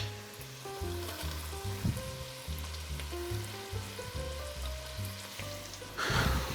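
Onions and garlic fry in spiced oil, hissing in a steady, close sizzle with stirring, while music plays over it and a louder crackle swells near the end.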